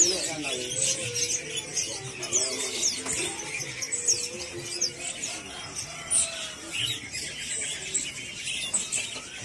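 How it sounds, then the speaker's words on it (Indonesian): Adult Bangkok zebra doves (perkutut) at a busy bird market, with many chirps and calls from caged birds overlapping steadily throughout, along with background voices and market chatter. "Ini perkutut bangkoknya udah dewasa ya"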